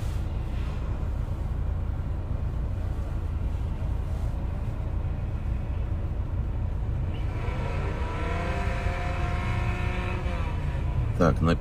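Drift cars circle a track during a winter drift training session, their engines droning and revving continuously with rising whine near the end, heard from a distance beneath a person's spoken commentary.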